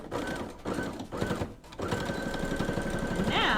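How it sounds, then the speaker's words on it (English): A sewing machine runs a straight stitch across a fitted face mask in short close bursts that stop and start a few times before settling into a steadier whirring run. "we're just going to do a straight stitch across"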